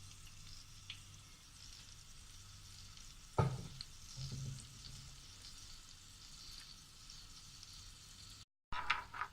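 Oil left from frying chicken is poured into a heating pan for a chicken potato curry and gives a faint, steady sizzle. There is a brief pouring clatter partway through and light stirring under a quiet kitchen hush.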